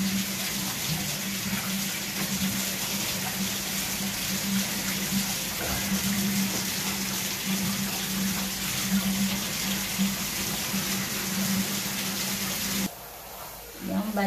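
Water streams from a tap to rinse a pug puppy during a bath, a steady close gush with a faint hum, ending abruptly near the end; a person talks softly at times.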